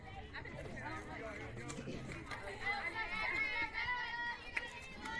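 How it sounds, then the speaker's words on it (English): At a youth softball game, SW Storm Navy against Lady Slammers, spectators chant and cheer for a player as she comes up, a rhythmic rising group chant heard at mid distance under close-up conversational talk and general crowd chatter. "Also G Money, you can hear the cheer"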